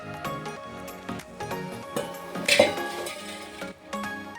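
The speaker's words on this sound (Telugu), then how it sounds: "ఒకసారి కలదిప్పండి." Millet upma rava stirred in a cooking pot, with irregular scraping and metallic clinks of a utensil against the pot, moderately close and with no talk.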